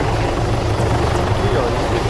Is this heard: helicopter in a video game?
yes